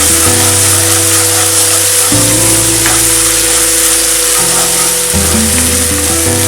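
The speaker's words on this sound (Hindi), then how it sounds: "धीमी आंच पे तेल छोड़ने तक मसाले को भूनें।" Ground spice masala frying in oil over low heat for paneer kaliya, a loud continuous sizzle beneath a steady droning background tone, with no talking.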